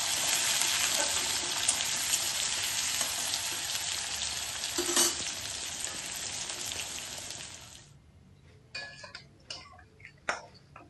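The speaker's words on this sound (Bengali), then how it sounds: "পেঁয়াজটা একটু হালকা করে ভেজে নেব।" Onions frying lightly in a pan give a steady close sizzle that fades after several seconds, followed by a few scattered clicks and taps of utensils.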